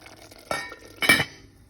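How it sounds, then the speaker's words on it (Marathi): Okra being mixed into a Goan prawn curry in a pan: two quick metallic clinks of a spoon against the pan, close and brief, over a quiet background. "कातोल्या हेजे भेंड आनी बरे भाशेन मिक्स कर"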